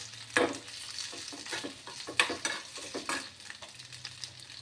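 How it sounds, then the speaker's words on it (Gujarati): Potato pieces sauté in hot oil for fasting dahi vada, with a steady sizzle and repeated stirring scrapes in the pan, no talk. "આપણે બટાકા નાખી દઈએ. જરાક બટાકાને તેલમાં સાંતળી લઈશું."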